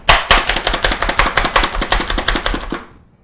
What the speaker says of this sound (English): this is the easiest way to chop this up.